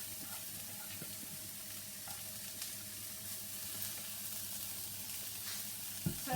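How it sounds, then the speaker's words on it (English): Two chopped onions fry in a large frying pan with a constant, fairly quiet sizzle and crackle, plus an occasional faint stir or tap near the end. "I've got my large frying pan and my 2 chopped onions, and we're going to fry the onions off"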